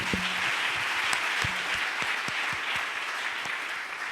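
A church congregation claps steadily in a sustained, dense burst of applause that fills the room and holds at an even loudness throughout.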